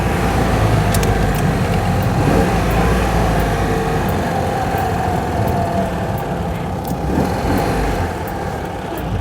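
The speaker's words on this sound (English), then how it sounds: "on full bore she's sounding, by 2CV standards," A Citroën 2CV engine at full throttle while driving, a steady loud drone with road and wind roar that holds constant and close throughout, with no talk over it.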